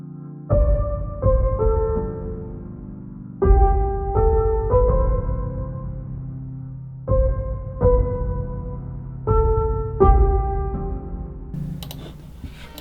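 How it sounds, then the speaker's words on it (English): Addictive Keys piano plug-in plays a jazzy melody in clustered chord phrases, bright sustained notes ringing in several bursts with pauses between, close and clear with no talking. "the piano, this is the melody, is the Addictive Keys"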